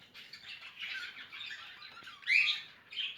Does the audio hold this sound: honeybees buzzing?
no